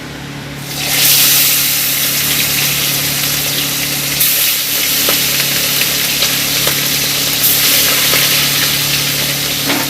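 Fish sizzles in hot oil in a pan, a dense steady hiss of frying that runs almost unbroken throughout with a few crackles, close and fairly loud, with no talking.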